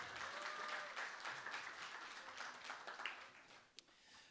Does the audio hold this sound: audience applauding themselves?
yes